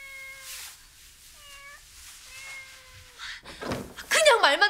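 A cat in a Korean historical TV drama meows several times, drawn-out and plaintive, close and clear, before a thud and voices break in.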